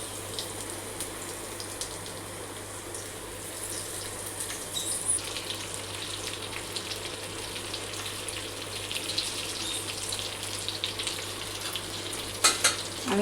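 Stuffed ridge gourds fry in a pan with garlic and cumin, giving a steady close sizzle with occasional crackles and light stirring scrapes, continuous and without talk.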